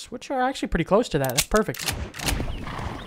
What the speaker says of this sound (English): Oh, this is my horse.